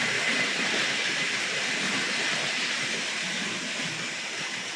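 Vintage Hornby Dublo model locomotive fitted with traction tyres running steadily on a layout track, giving a continuous close whirring rumble with a fine hiss and no pauses.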